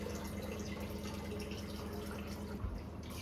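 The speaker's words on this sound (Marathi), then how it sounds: "आता ह्याला फुल भरून पाणी ठेवते" Water filling a cooking pot of soaked rice and fenugreek seeds for idli, a soft steady trickle and splash running throughout at low volume.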